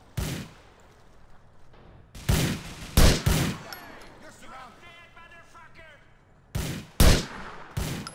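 Several loud bursts of gunfire from GTA IV, one near the start, a cluster around two to three and a half seconds and another pair near the end, with quieter game ambience and faint tones in between.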